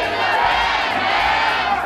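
An excited crowd at a Future Shop store roars and shouts in one dense, loud burst of cheering that stays close and sustained without a break.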